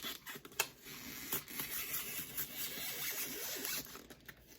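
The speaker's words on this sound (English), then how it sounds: "So now I'm gonna cut this one into like little pieces like this, just to shove down here in the corners." Snips and rustles of floral stems being cut into small pieces for a rustic Christmas arrangement, a run of close, crisp scratchy cuts and stem handling with a few sharper clicks, no talking.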